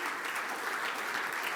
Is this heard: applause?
yes